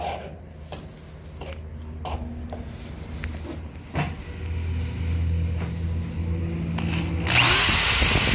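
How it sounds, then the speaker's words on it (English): A power drill with a cobalt bit grinds through 3/16-inch steel plate and sheet-metal hat channel on a school bus roof, a loud steady whine that rises sharply in pitch near the end as it breaks through. "That's how fast the hole gets drilled with the right bit."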